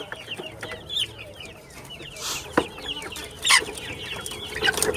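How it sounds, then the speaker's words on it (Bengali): Crested chickens and their chicks cluck and squawk eagerly while waiting for food on a farm, several birds calling in overlapping bursts close by, with no talk. "সাদা যে মুরগিগুলো এগুলো সবই যে ঝুটিয়ালা মুরগি মুরগির বাচ্চা সবগুলো হচ্ছে খাবার জন্য পাগল হয়ে আছে"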